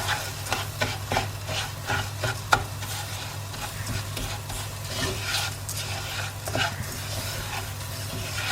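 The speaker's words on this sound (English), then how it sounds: "I'm just going to give that a stir" Lentils, 250 grams, being stirred in a pan for a lentil and aubergine bake, repeated spoon scrapes and rubs over a light sizzle, with one sharp knock and a faint dog-like sound.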